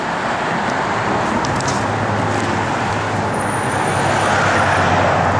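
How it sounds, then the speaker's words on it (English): Exhaust of a 1969 AMC AMX rumbles as a steady, loud low drone with a continuous engine hum and no talking. "Good sounding exhaust."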